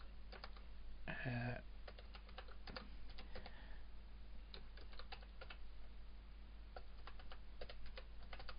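Steady, irregular clicking of keys on a computer keyboard in a quiet room, with short bursts of typing spread throughout and a brief louder knock near the start over a low steady hum.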